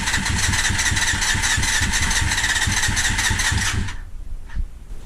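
A Honda MC22 CBR250RR motorcycle engine cranks on the starter in a loud, steady whirring churn for about four seconds without catching, then cuts off to quiet.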